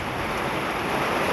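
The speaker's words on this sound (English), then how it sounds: "See the way the rain is falling." Heavy, non-stop rainfall pouring down and flooding the ground with muddy water, a steady dense broadband hiss with no breaks, close and fairly loud, no voices.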